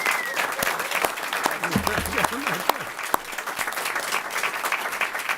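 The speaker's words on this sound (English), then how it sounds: "But I would like a big round of applause for Senator Drew Springer." Applause breaks out for a state senator at a Senate local government meeting, scattered sharp claps with a lively rhythm, close and bright, while someone speaks briefly in the background.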